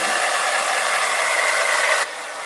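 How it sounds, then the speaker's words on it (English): A blow dryer aimed at a surfboard gives a steady, loud whirring hiss that runs continuously up close, dropping slightly in level just before the end. "So I'm gonna hit it with a blow dryer."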